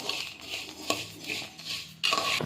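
Food being stirred in a pot by hand, metal spoon clinking and scraping against the pot in short bursts, close by with a brief quiet hiss in between.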